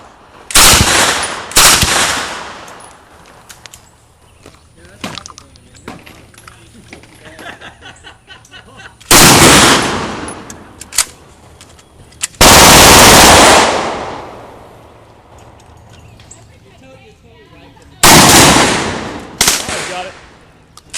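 A Pulse Rifle replica machine gun fires in loud, broad bursts, several separate volleys spaced across the clip with quieter stretches of talk and handling noise between them.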